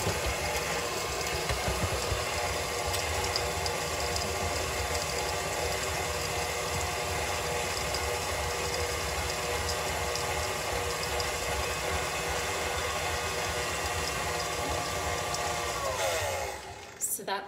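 An electric mixer beats chocolate chip cookie dough, a loud, continuous motor whir running close for over fifteen seconds before switching off, followed by a few clunks.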